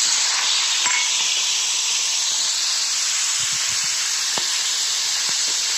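Tomatoes dropped into hot oil with cumin seeds hiss in a steady, broad sizzle that holds close and loud throughout, with a few faint clicks of cookware.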